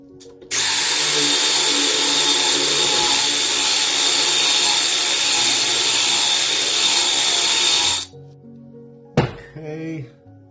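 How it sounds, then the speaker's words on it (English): A power drill with a 9/16 bit bores into an oil galley plug on a Porsche 912E/914 VW 2.0 Type 4 engine, a loud continuous whine for about eight seconds, then it stops and a brief clatter and handling noise follow. "And I'm going to start drilling it."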